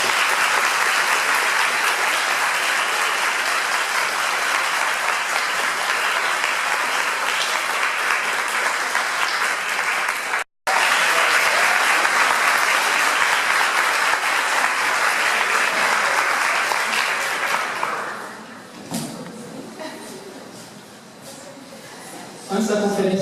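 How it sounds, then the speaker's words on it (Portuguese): A conference audience in Ouro Preto gives sustained, dense applause of thanks that fills the room for about eighteen seconds, then thins out, with a voice starting to speak as the clapping fades. "eu solicito a vocês um grande aplauso de agradecimento por estarmos todos reunidos aqui hoje"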